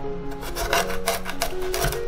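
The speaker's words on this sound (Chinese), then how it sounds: "南姜会比较硬，切的时候有点吃力。" A knife cuts hard galangal root into chunks on a board with a steady run of close, loud, gritty rasping and scraping strokes. A faint hum sits underneath, and no voice is heard.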